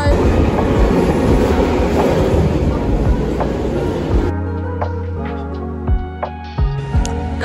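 A train rumbles and clatters past at a downtown station, loud and close for the first few seconds, then the roar cuts out, leaving quieter rail clicks and knocks.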